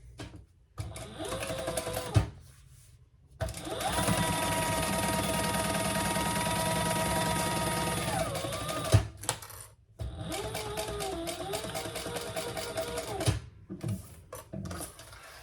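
A sewing machine top stitches a messenger bag in close, loud bursts of rapid whirring, with short pauses and a sharp clunk between runs.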